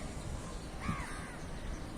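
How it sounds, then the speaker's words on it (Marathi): A single faint, short crow caw rises briefly out of steady outdoor background noise, distant among buildings where several crows gather. "किती कावळे आहेत"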